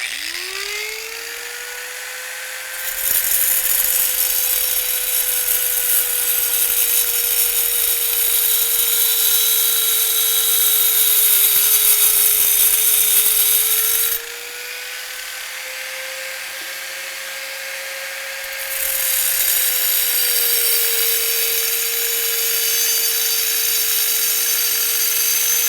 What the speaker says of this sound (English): So I'm going to hold this with the wrench and I'm going to cut this off.